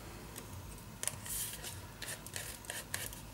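Scissors snip through paper for a Christmas December Daily mini album, with several soft, close cuts and light ticks spread unevenly over a quiet room hiss, no voices.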